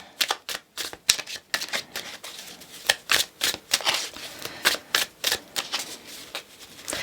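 Tarot cards are shuffled close by in quick, irregular riffles and slaps, a crisp papery flutter repeating steadily for several seconds with no voices.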